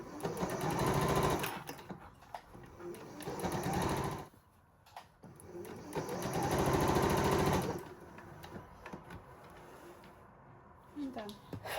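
A domestic sewing machine runs in steady whirring bursts while stitching a 1 cm seam allowance on a blouse sleeve, with short pauses between runs. Someone speaks quietly over and between the stitching.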